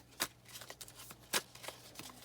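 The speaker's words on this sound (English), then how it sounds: "So let's pull some more cards and see." Tarot cards being shuffled and pulled from the deck, giving several crisp riffling bursts with softer card slaps between them, close and fairly quiet with no talking.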